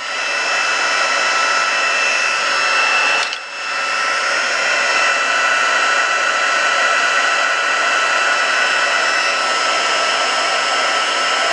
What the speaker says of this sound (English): embossing tool nice and hot for vellum so you don't burn it.